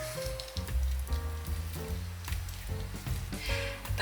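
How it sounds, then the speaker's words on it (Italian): A spritz of lemon squeezed over a bean salad gives a soft, wet hiss and squish, close and fairly quiet, lasting a few seconds with no talking. "Uno spruzzo di limone."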